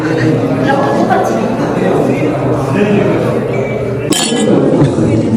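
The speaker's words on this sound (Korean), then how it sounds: "짠! 건배사." Glasses clink together in a toast at the opening of a Korean ink-painting exhibition, one bright clink rising above a loud, continuous crowd murmur with people talking throughout.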